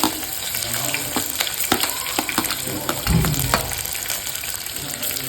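Onions going into hot oil with spices sizzle and crackle steadily, with a brief louder burst partway through and a few clinks from stirring, close by with no talk.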